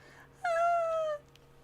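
A lion or cat-like creature in the Terranigma video game lets out a single drawn-out, falling cry lasting under a second, clear and tonal against a quiet background.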